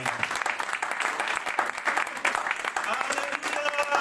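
A church congregation claps steadily and warmly to acclaim the Lord, a dense ongoing patter of many hands filling the room, with voices mixed in under the clapping.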